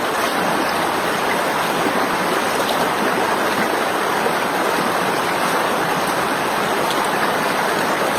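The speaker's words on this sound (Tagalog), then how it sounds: "samahan niyo ako maglaba dito sa ilog." Continuous rushing of flowing river water while clothes are washed in the river, loud and steady throughout, with no voices.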